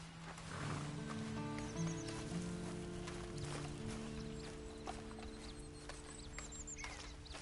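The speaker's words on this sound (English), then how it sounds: "Then you better get on this horse." A horse in Red Dead Online whinnies and snorts over soft hoof clops and a low ambient music drone, moderately loud and close.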